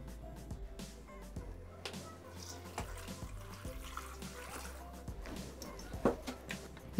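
Water poured into a Thermomix bowl over pumpkin, potatoes and seasonings for soup, a soft, close trickle and splashing that runs quietly with a few clunks and a louder splash near the end.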